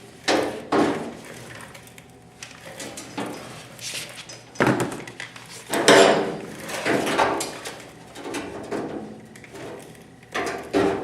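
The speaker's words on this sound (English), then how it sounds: "I'm doing hammer on dolly." Hammer-on-dolly metal bodywork on a Camaro panel, with a series of sharp, close metallic hammer strikes in irregular bursts and short pauses between them.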